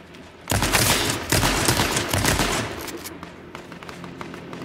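Rapid bursts of automatic gunfire crackle loudly in an H1Z1 King of the Kill battle royale match, a dense fusillade for about two seconds that thins into scattered, fainter shots.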